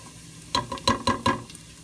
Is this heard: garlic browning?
yes